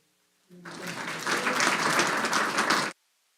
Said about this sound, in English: Go ahead and just give applause for